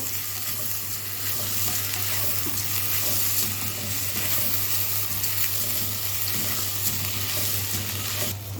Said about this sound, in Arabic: بعد ما شوحناه هنحط الرز، هيتشوح الرز شويه